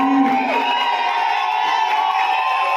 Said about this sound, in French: Est-ce qu'on peut acclamer très fort pour sa famille aussi?